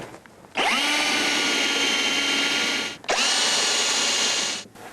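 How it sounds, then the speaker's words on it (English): Power drill boring a hole into a bench with a 3/8 inch (about 10 mm) bit, two loud sustained whirring bursts of roughly two and a half and two seconds separated by a brief pause, close and alone. "You can then use a 3/8 inch drill bit, or approximately 10 millimeters, to drill a hole in your bench."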